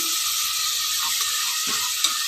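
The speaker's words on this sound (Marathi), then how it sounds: "छानपैकी मोहरी फुटलेली आहे" Hot oil hisses steadily with faint crackling pops as mustard seeds splutter, close up and continuous.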